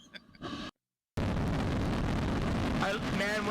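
A rocket's self-destruct explosion arrives after a short silence as a loud, sustained broadband roar and rumble, with fainter voices heard just before it.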